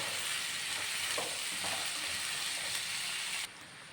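Long beans stir-fried with salt in a pan, tossed and mixed: a loud dense sizzle with a couple of soft scraping strokes, close up, cutting off sharply near the end, no talking.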